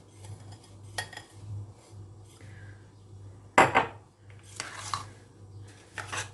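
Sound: stirring pudding with crushed biscuits in a bowl

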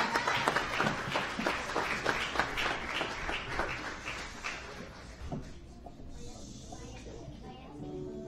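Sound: audience applause at a Christmas concert

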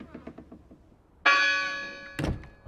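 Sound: church bell ringing in the video game Draugen

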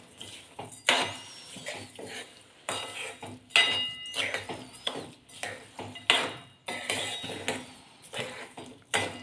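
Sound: stirring sugar and dry fruits into fada lapsi

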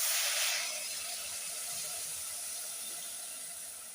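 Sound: tamarind water boiling in a cooking pot

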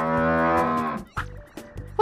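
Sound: cow mooing

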